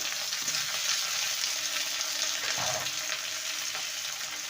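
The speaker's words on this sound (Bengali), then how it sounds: "পেঁয়াজটাকে হালকা লাল করে ভেজে নিয়েছি এবার ধুয়ে রাখা শিমের শিমগুলো দিয়ে দেবো" Washed flat beans tipped into hot oil with lightly browned fried onions, giving a steady broadband sizzle throughout, close and even, with a brief stir or clatter midway and no talking.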